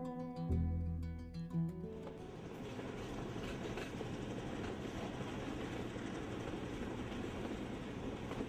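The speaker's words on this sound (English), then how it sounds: "The train is carrying the travelers from Eya to Aputale, one of the centers of the tea industry." A train runs through the tea-growing hill country of Sri Lanka with a continuous rumbling roll and rhythmic clatter of wheels on rails, after a brief tonal opening.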